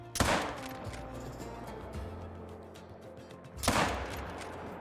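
Two sharp rifle shots ring out about three seconds apart while hunting a water buffalo in the video game Call of the Wild, each a loud crack with a rolling tail, with no talking.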